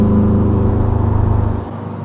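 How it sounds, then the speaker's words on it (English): A Subaru WRX with an external wastegate and electronic boost controller holds a loud, steady engine rev with a deep throbbing exhaust drone that drops off sharply near the end. "That's an evil sounding car."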